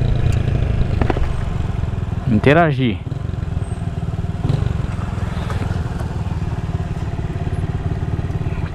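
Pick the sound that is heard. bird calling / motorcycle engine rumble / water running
motorcycle engine rumble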